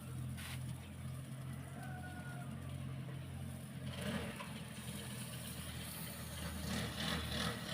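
A tractor engine idles nearby with a steady low rumble throughout, the sound holding even with slight swells, while faint background noise and occasional voices sit beneath it.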